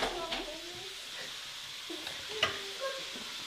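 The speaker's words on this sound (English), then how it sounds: "That nice sizzle. That's exactly what you want to hear." Carrots, celery, garlic and pancetta sizzle softly and steadily in a pan, with a few light clinks and scrapes.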